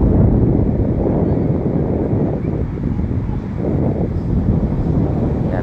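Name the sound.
wind at Manila Baywalk Dolomite Beach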